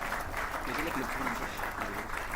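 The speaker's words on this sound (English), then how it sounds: "Let us please put a huge round of applause for all the dignitaries present here." A conference audience claps steadily for the dignitaries on the dais, a dense, continuous wash of applause filling the hall without a break.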